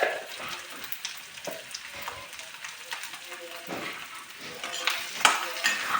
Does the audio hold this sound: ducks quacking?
no